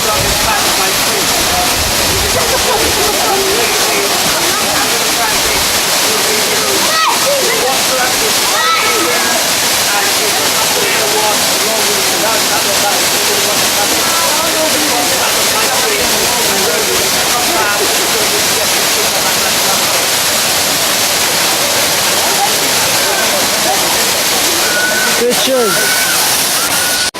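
Ouzoud waterfall in Morocco roars steadily and loudly throughout, a dense broadband rush of falling water with no breaks, while people talk faintly beneath it.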